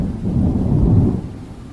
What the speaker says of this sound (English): Rain coming down sideways, thunder so loud it shook the siding.